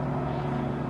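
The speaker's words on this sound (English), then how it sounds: "That is a loud, long truck car." Loud, long truck rolling past close by, a dense continuous engine roar with no talk over it.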